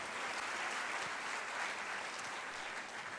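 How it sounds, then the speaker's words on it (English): An audience applauds employees being honored for their years of service at a staff service-awards event, a steady, dense wash of clapping from a large crowd that carries on evenly without pause. "Please applaud them."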